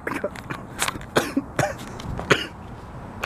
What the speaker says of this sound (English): I just coughed my own saliva there.